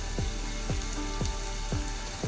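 Garlic frying in oil for a creek prawn curry, giving a steady, close sizzling hiss that fills the whole stretch evenly with no voices over it.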